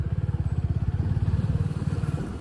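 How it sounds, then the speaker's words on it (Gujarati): Motorcycle engine idling or running close by at a busy bike parking area, a rapid even pulsing throb that holds steady for a couple of seconds with no clear talk over it. "ને આ બાઇક પાર્કિંગ છે"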